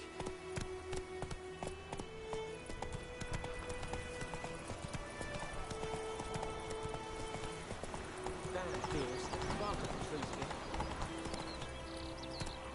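Roach, a horse in The Witcher 3 game, gallops with fast, rhythmic clip-clopping hooves, close and prominent alongside game music and sound effects, with brief voice lines over it.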